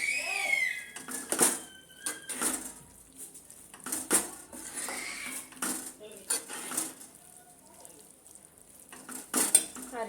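A metal spoon clanks and scrapes repeatedly against a pan while leftover roti mixture is stirred, in irregular bursts over a faint sizzle, close by and without speech.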